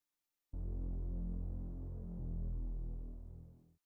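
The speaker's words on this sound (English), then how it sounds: "I added a synth bass for the sub frequencies." A deep, sustained synth bass note hums for about three seconds, swelling slightly before fading out, with no other sounds.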